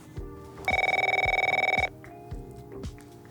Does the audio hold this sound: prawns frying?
no